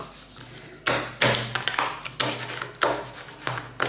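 A paper bread bag, folded into a pocketed folder, is pressed flat with a small creasing tool, giving a string of close rubbing and sanding strokes with soft taps between them.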